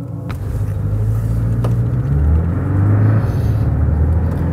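A 2019 Porsche 718 Boxster GTS drives the Nordschleife in standard drive mode, its engine a steady, close, rumbling drone that rises slightly in pitch as it pulls, with road and wind roar underneath and no talk.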